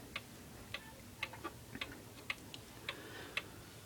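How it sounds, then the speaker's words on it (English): A D&A 31-day wind-up wall clock ticks steadily at an even, moderate pace, each crisp tick clear against a quiet room with no voices. "DNA wall clock."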